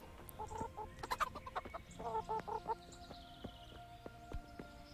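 Chickens cluck in a farmyard in the medieval game Kingdom Come: Deliverance, a series of close, choppy clucks and short squawks in quick bursts, then quieter pecking noises.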